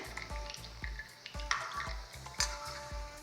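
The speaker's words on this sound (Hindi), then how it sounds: "हम 3 ही समोसे डाल रहे हैं और इसे हम बिल्कुल लो फ्लेम पर रखकर फ्राई करेंगे" Three samosas deep-fry slowly in oil over a low flame, making a soft, steady bubbling sizzle punctuated by regular low thumps and a few brief clinks, quiet and close with no voices.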